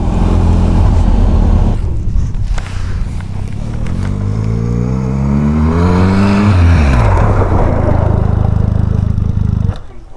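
A Benelli TRK 502X adventure motorcycle rides during an off-road training session, its engine droning loud and close with steady wind rush, the pitch climbing and then sliding down as the rider brakes and slows.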